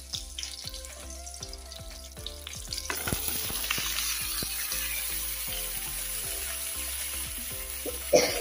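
Bottle gourd and potatoes, cut small, go into a hot pan and sizzle steadily, with frying crackle building after a few seconds and utensil clinks and stirring scrapes over the hiss.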